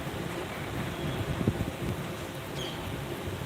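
Wind and rain from Cyclone Fengal make a steady, faint broadband rush with a soft gust swelling briefly partway through, no voices present.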